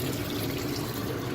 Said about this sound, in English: have some hot water in the tea kettle, just run it right across